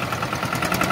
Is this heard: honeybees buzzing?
no